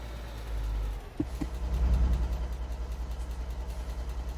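A truck engine idles at a petrol station in the Alaskan Road Truckers game, a steady low rumble with a brief clunk before it settles into a pulsing idle, fairly quiet.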